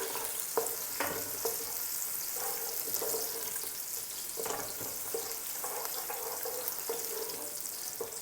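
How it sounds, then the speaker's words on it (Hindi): Onions frying in a pan until pink while making chicken pulao: a steady, moderate sizzle with intermittent stirring scrapes and light clinks, no talking. "और अब हम प्याज गुलाबी करेंगे।"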